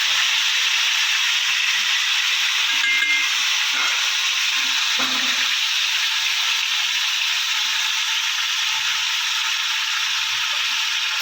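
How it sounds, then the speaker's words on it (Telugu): Marinated chicken for biryani sizzles in a hot pan, a constant loud hissing fry with a couple of brief scraping stirs early on, steady throughout with no voices. "మ్యాగ్నెట్ చేసి పెట్టుకున్న చికెన్ని ఇందులోకి వేసుకోవాలి."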